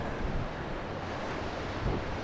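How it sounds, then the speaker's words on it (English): Strong east wind blows steadily across a Gulf fishing pier, a continuous broadband roar and microphone buffeting with surf washing underneath, no voices. "The east wind is absolutely brutal"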